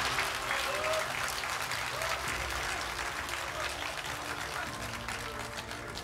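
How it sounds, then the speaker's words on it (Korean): Sustained applause from an audience at a Korean Buddhist Seon meditation event in New York, a steady dense wash of clapping throughout with faint voices underneath. "우리 정우대 종사님께 다시 한번 큰 박수로서 그 감사의 마음을 전했으면 좋겠습니다"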